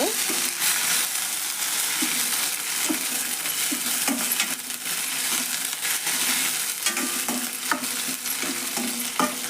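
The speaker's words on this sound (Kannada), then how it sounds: "ಹಂಗೆ ಎಣ್ಣೆ ಒಳಗೆ ಫ್ರೈ ಆಗೈತೆ ನೋಡ್ರಿ" Steady crackling sizzle of something frying in hot oil, continuous and close, with a few light stirring clinks and scrapes.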